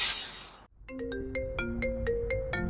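A phone ringtone for an incoming call, a short melodic electronic tune of repeated bright notes in a quick rhythm, following a brief burst of hiss and a moment of silence.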